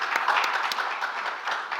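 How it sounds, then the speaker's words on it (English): Audience applauding a panel at a startup networking event on NFTs in Cyprus, a steady dense wash of many hands clapping together, fairly loud and continuous for a couple of seconds with no talk over it. "Round of applause for Cats of Cyprus"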